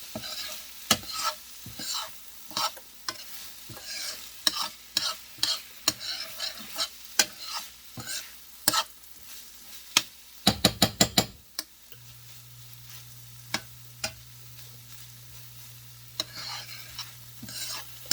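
Rice toasting for butternut squash risotto in a copper pan, stirred with a metal utensil: repeated close scrapes and clicks over a soft sizzle, with a quick rattling burst midway and a faint steady hum later.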